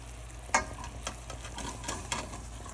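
Small pieces of paneer are stirred in thickening sugar syrup, with soft scraping strokes and light bubbling sizzle, faint and close, and a few sharper clinks of the spoon against the pan.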